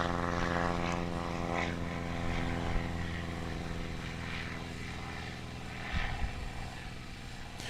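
A STOL light propeller aircraft passing low over a freeway at a practice event in Jennings, Louisiana, its droning engine hum loud and steady with a deeper rumble swelling briefly near the end.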